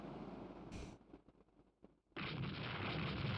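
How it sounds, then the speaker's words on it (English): Torpedo bombers attacking warships in the naval strategy game Rule the Waves II, with a muffled battle boom and rumbling explosions that swell into a sustained roar toward the end. "Torpedo bombers striking at the moment."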